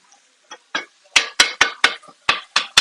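A utensil repeatedly strikes a pan while breaking up 93% lean ground turkey as it browns, a run of sharp metallic clacks that start sparse and quicken into a steady chopping rhythm, close and loud with no talk.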